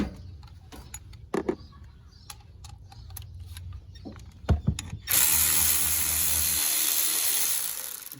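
Ratchet with a 10 mm socket working a bolt during an alternator replacement on a 2007 Trailblazer 4.2, a run of sharp close clicks and knocks in irregular bursts, then a loud steady mechanical whir takes over.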